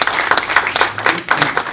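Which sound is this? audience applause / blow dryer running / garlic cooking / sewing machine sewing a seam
audience applause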